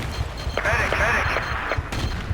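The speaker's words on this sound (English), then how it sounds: "Artillery, your area." Artillery fire in the Battlefield 2 video game booms in repeated heavy blasts mixed with crackling gunfire, running steadily across the short moment while battlefield radio voices call out over the din.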